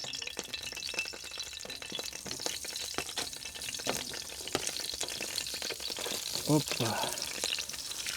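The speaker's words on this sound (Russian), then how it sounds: "слышите, засковчала сковородочка" A frying pan sizzles on a wood-fired stove in a forest setting with a steady, crackling hiss that continues throughout, punctuated by a few stirring clicks and a brief spoken word.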